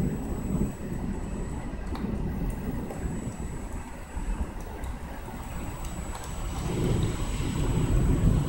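Strong spring thunderstorm in Amiens, France: deep rolling thunder rumbles continuously at close range with rain hissing steadily, swelling louder toward the end.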